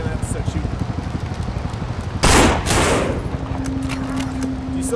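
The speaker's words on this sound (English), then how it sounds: "In which case, you're gonna have to start shooting." Gunfire from the zombie shooter game No More Room in Hell, a single loud burst of shots standing out over a steady game background.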